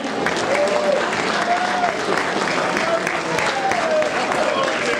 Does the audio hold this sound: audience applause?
yes